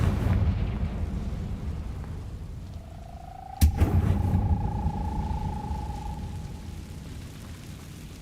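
A Confringo blasting spell from Hogwarts Legacy lands as one sharp, loud explosive crack. A whooshing tone trails after it above a steady rumble of game ambience.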